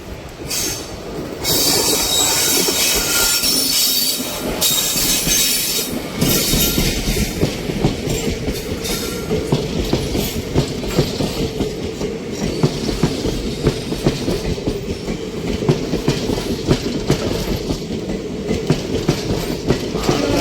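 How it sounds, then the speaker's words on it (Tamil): A train rolls past close by at a station, a continuous heavy rumble with rhythmic wheel clatter and high metallic squealing, no voices. "ட்ரெயின் வருதுன்னு கைஸ்."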